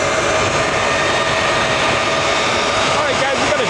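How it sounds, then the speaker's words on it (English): A jet truck powered by two jet engines idles and roars at a drag race, producing a dense, loud, continuous whine and rumble with a rising tone near the end. "we got a jet truck pulling up with"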